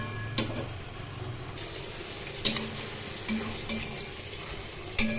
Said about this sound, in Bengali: সমস্ত সবজি খুব ভালো করে নেড়ে দিলাম।